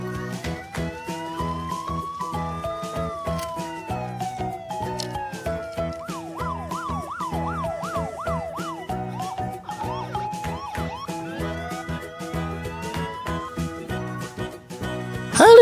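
A toy white police car's wailing siren rises and falls over tinkling, jingly children's music, part of a playroom earthquake story with toy animals and vehicles.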